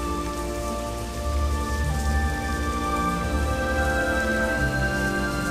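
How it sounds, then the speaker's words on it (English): Steady rain falls in the video game Morrowind, a constant even patter lasting throughout with a low droning background beneath it and no voices. "And it's still raining."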